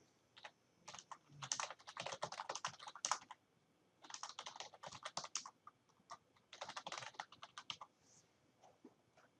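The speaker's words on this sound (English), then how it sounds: "begin typing" Bursts of rapid keyboard typing, close and crisp, with short pauses between runs of keystrokes.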